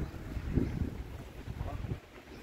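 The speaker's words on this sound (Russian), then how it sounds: "такое ветрище" Strong wind buffets the microphone outdoors in Omiš, Croatia, producing a loud, low, rumbling roar that pulses unevenly and then drops away.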